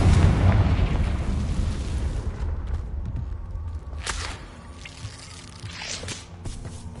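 A Confringo fire spell explodes in the Hogwarts Legacy video game, opening with a loud, rumbling blast that fades into crackling debris and a few sharp impact bursts.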